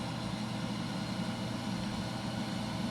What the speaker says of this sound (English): left engine RPM is climbing slowly